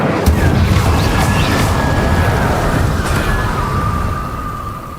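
An Incendio fire spell in Hogwarts Legacy erupts as a loud, dense roaring whoosh with a bright sustained tone, holding strong before fading slightly toward the end.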